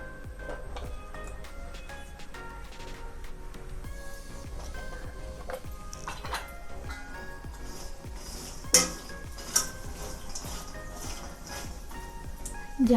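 Ground dates roast in a little ghee in a pan for coconut gond dry fruit laddu, stirred continuously: a soft steady sizzle under repeated spoon scrapes and light clinks, with a couple of sharper metallic knocks toward the end, close and without talk.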